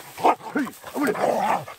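A blood-tracking dog in Corsica gives a quick run of short, close yelps and barks, loud and rapid, with a voice heard around them.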